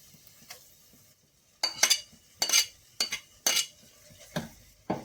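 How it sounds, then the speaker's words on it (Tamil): Metal spoon scraping and clinking in a pan at close range while onions, green chillies and tomatoes with added ginger garlic paste are stirred and sautéed for a lamb curry, in a burst of several sharp strokes after a quiet start. "இஞ்சி பூண்டு சேர்த்து நல்லா வந்து வதக்குறோம்"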